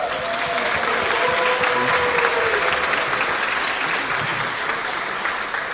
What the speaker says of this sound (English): Let's also give a round of applause to the Board of Directors for the Arkansas Latino Hall of Fame.